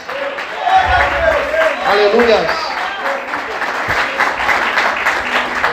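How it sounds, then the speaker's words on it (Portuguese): A church congregation clapping hands loudly in worship, dense sustained applause throughout, with a preacher's voice and sung or spoken tones over the clapping. "adore ao Senhor bem forte com as palmas"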